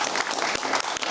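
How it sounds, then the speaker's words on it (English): Studio audience giving a round of applause to welcome broadcaster and journalist Jonathan Sacerdoti, a brief, dense burst of many hands clapping at full volume. "Let's give him a big round of applause."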